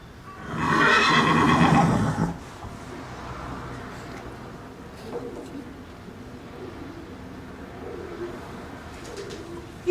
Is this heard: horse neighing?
yes